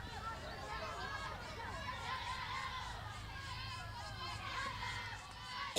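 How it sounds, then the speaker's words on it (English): A Chinese junior baseball team cheers on its batters in a series game against Aussie Junior Spirit. Young voices shout and chatter in a continuous, moderately distant babble throughout. "Definitely hear that Chinese team loud cheering on their batters."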